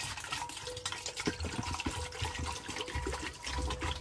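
Four litres of water pour into a container already holding horsetail mixture, a close, steady rushing splash with gurgling bursts, no talking.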